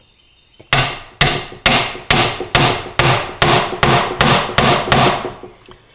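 Eleven evenly spaced, sharp hammer blows ring out close and loud, driving dowels into the miter joints of an oak tool chest, each strike decaying quickly before the next.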